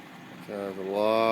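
A Bendini rod motor driven by four pulse motors spins up, its rising whine climbing in pitch and growing louder over about a second.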